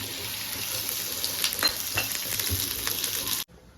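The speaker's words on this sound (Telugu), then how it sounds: "అది ఒక మూడు ఉల్లిపాయలు వేయించుకుందామమ్మా. ఆయిల్ వేసేసి" Onions frying in oil in a pan while cooking fish pulusu: a steady close-up sizzle with crackling and occasional stirring clicks, no talk, cut off abruptly near the end.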